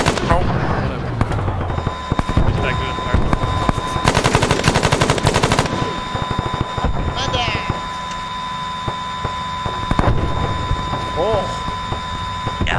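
Grenade explosions and heavy gunfire during a combined-arms military operation, with loud bursts of rapid firing and booms continuing throughout under radio chatter and shouted voices.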